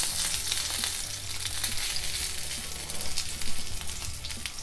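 Chicken seekh kebabs sizzling in a pan as they are turned, a loud, continuous close-up crackle with a low hum beneath and a few louder pops.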